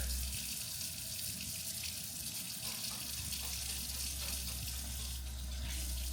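Hands being washed under a running kitchen faucet, a steady close gush of water splashing into the sink throughout, with no talking over it.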